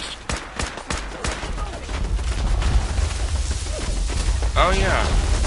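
Automated turrets firing in Fallout 4 near Spectacle Island, a dense run of sharp gunshot bursts and booms throughout, with a swooping electronic sound near the end.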